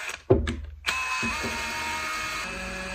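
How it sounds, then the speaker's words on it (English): A power drill whirs in short bursts, then settles into a steady, close, high-pitched grinding hum as it bores a hole through a boot. "you're going to want to take a drill and press a hole through the boot right here"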